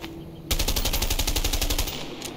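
A video game gun fires a rapid, steady automatic burst of evenly spaced loud shots lasting over a second, close and clear, with no talk over it.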